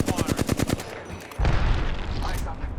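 Rapid automatic gunfire in the shooter game Apex Legends, a burst of sharp evenly spaced shots followed by a heavier, sustained blast and clattering noise, loud and close.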